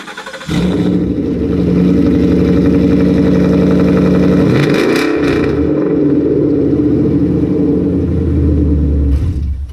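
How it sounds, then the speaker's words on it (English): A loud Ford car engine with no mufflers or resonators and long-tube headers starts, idles with a harsh rumble, then revs sharply to about 3,500 rpm and settles back to a throaty idle. "crank up the car, give it a rev, just so y'all can hear what it sounds like with no mufflers"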